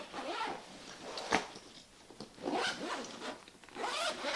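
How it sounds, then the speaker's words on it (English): Zipper on a Voodoo Tactical rifle bag being pulled closed in several separate runs, each a close, raspy ripping zip, with a small clack partway through. "Zip this back up."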